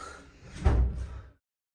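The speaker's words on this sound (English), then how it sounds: "There's the door." A door opens or closes once in a craft workspace, a single soft thud with a short rumble that fades into silence.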